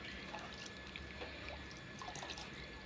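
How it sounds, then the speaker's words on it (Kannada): Water poured into a cooking pot while preparing a Sunday special home-cooked dish, heard as a soft, steady trickle and splash that stays faint and continuous throughout, with no voices. "ಈ ಅದರಲ್ಲಿ ನೀರು ನಮಗೆ ಎಷ್ಟು ಬೇಕೋ ಅದನ್ನು ನೋಡಿಕೊಂಡು ಹಾಕ್ಕೊಂಡ್ರೆ ಆಯಿತು"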